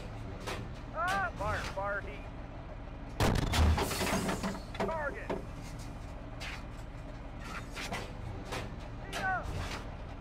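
A tank cannon fires a HEAT round in the Steel Beasts game: one loud, deep boom with a sharp blast stands out midway. Muffled voices and a steady engine rumble run underneath.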